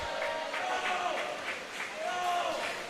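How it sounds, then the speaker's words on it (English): A boys' swim meet between Hoffman and Palatine, where a swimmer shouts encouragement to his opponent. Rising whooping cheers ring out over a steady, echoing crowd din in the pool hall. "You can hear Charlie Jackson cheering on his opponent"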